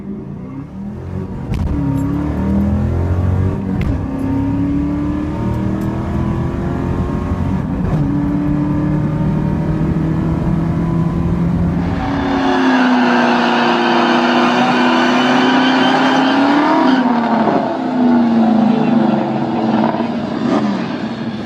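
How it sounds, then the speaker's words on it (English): LS-swapped car engine revving and accelerating, its tone climbing in several rising sweeps, then a louder, higher run as it passes close by on a town street. "By the way, here's another LS swapped car."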